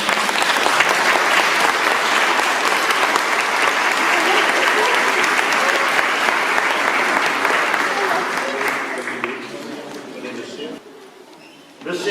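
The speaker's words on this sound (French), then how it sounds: "on va peut-être les applaudir." A church congregation applauds new members at a first communion Mass, sustained dense clapping that fades and thins toward the end before a brief resumption.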